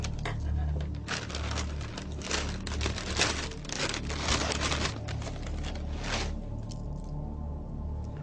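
Cereal flakes are picked out of a bag by hand, a close, busy run of crinkling and crunchy rustling that tapers off into quiet near the end.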